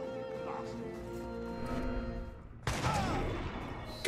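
A single sharp gunshot in Assassin's Creed Unity cracks out loudly after a stretch of steady game music and ambience, leaving a noisy burst that rings on.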